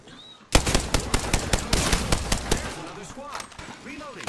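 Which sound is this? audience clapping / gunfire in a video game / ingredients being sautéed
gunfire in a video game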